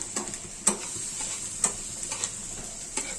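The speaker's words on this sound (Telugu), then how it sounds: "1 స్పూన్ అల్లం తరుగు, 1 చిన్న ఉల్లిపాయ తరుగు, అలాగే 1 అరకప్పు క్యాప్సికం ముక్కలు కూడా వేసుకొని వీటిని పచ్చివాసన పోయేంత వరకు వేయించుకుందాము" Chopped ginger, onion and capsicum fry in a pan with a steady sizzle, broken by a few sharp clicks of a spoon stirring against the pan at irregular intervals.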